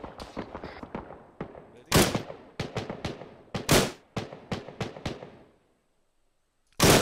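Rapid volleys of sharp gunfire in the video game ArmA 3 crack in quick succession, with a few louder heavy blasts standing out, then a pause before another loud shot.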